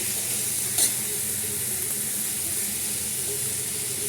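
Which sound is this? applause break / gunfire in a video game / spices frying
spices frying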